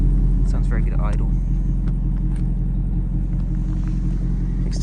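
A 2016 Audi S6 Quattro sedan with an Akrapovic exhaust idles with a steady, deep, burbling rumble. Someone talks briefly over it near the start.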